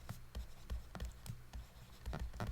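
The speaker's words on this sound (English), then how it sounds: "So maybe I'll write this here." Pen scratching across paper while chemistry notes on acids and bases are handwritten, a run of short, quick strokes with brief pauses, close and fairly quiet, with no talking.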